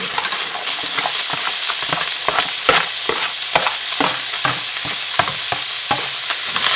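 Carrots and onions for beef bourguignon cooking in a hot pot, a loud steady sizzle close by with repeated scraping stirs from a spoon, with no talking.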